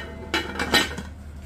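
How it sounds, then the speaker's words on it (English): A metal lid set down on a cooking pot of bitter leaf soup with cocoyam paste, giving two or three quick clattering clinks close by, with no talking. "I'm just going to cover this pot and allow it to cook for 10 minutes"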